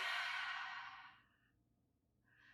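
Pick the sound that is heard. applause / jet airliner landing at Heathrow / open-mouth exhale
open-mouth exhale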